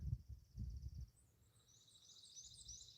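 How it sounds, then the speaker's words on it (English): Birds sing outdoors in faint, high, quick chirping phrases that start a moment after a few low thumps and continue quietly to the end. "Can you hear those birds singing?"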